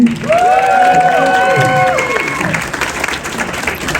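Audience applause fills an arts awards show, steady clapping and some cheering throughout, loud and close, with a held musical tone over it early on.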